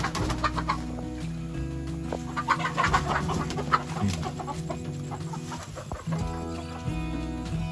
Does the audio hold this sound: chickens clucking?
yes